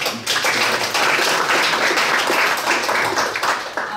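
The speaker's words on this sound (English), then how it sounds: "give yourselves a round of applause for pulling this event off today" A crowd applauds loudly with dense, sustained clapping that continues for several seconds.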